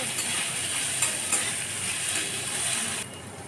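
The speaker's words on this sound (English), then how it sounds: "so it's time we put in the black grams and mix it well" Black grams are stirred into cooking colocasia in a hot pan. A steady, close sizzle carries light scraping clicks from the stirring and drops a little quieter near the end.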